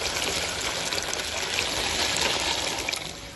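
A pot of water at a rolling boil, with pasta just added for a vegetable pasta and noodle dish, gives a steady, dense bubbling and rushing hiss that holds evenly throughout, close by and with no talk over it.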